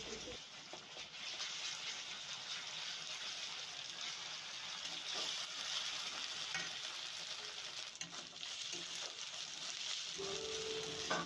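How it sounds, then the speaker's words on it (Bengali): Ginger-garlic paste fries steadily in a pan for Bengali pangas fish-bone curry, a continuous moderate sizzle broken by the scrape and rattle of stirring throughout. "আদা রসুন বাটা 1 চামচ দেব, দিয়ে ভালো করে নাড়াচাড়া করে ভেজে নেব,"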